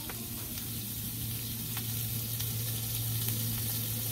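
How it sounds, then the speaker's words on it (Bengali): Green chilies fry in hot oil with a steady, close sizzle and faint crackles and pops throughout, no voices. "কাঁচা মরিচ দিচ্ছি"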